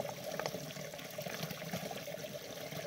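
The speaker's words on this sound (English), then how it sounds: "just got this water bottle completely full" Water pours into a bottle from a source along the Appalachian Trail, a faint continuous trickling and gurgling that runs steadily throughout with no talking.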